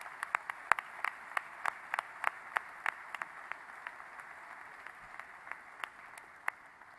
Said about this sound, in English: Give a great round of applause to the Isaiah House for this first award